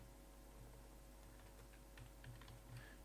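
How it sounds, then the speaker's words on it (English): Someone types on a computer keyboard while writing jQuery code, producing faint, quick keystroke taps in irregular runs over a low electrical hum, with no speech. "now in here we type"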